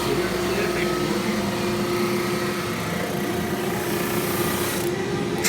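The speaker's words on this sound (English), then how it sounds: "So here's the sandpaper working." Wood running through a conveyor sander under sandpaper, a constant loud abrasive rasp over a steady machine hum, unbroken throughout, with a voice faintly present.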